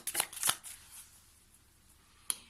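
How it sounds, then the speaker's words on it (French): Tarot cards riffled and flicked in a quiet room, a quick burst of crisp shuffling snaps at the start, then near silence and a single sharp card snap near the end. "Allez, on va prendre une dernière carte, s'il vous plaît, pour le plan sentimental."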